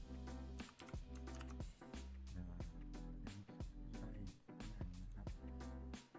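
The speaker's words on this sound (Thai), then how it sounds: "ผมจะคลิกที่หน้าจอแล้วผมจะพิมพ์ว่าสารบัญเลยนะครับ" Quick, close clicks of typing on a computer keyboard come in an uneven run of sharp keystrokes, fairly quiet and alone with no talking.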